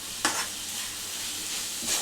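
Cluster beans frying in a pan hiss with a steady sizzle, broken by two brief clattering stirs near the start and end.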